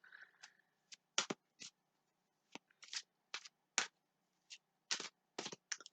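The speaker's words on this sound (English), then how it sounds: "So I'm just shuffling the cards" A deck of oracle cards is shuffled by hand in a quiet room, giving a series of short, crisp riffling snaps and flicks in irregular bursts, close and alone.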